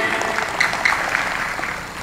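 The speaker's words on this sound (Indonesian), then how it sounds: "Tepuk tangan untuk santri." A crowd of santri at a closing ceremony claps in steady, dense applause that fills the space evenly, loud and sustained, then tails off slightly at the end.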